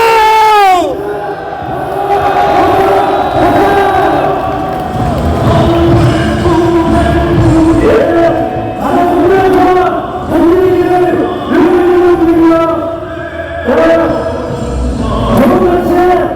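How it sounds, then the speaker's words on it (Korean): Tens of thousands of Korean Confederation of Trade Unions members on a march toward the presidential office in Yongsan shout together in loud repeated bursts, close and massed, with pauses between each collective roar. "서로가 서로를 의미하고 격려하는 것에서 다 같이 함성 한번 드리겠습니다."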